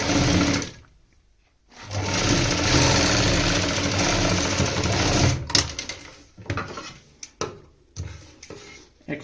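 A sewing machine runs in a loud, steady burst while stitching a suit collar, stops briefly, then resumes in a long whir before breaking into short, choppy stitching spurts and handling clicks.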